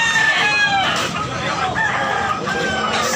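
A rooster crows loudly and close by at a busy chicken market in Tabunok, Talisay, Cebu, with wavering calls repeating over a noisy background of other fowl and crowd sounds.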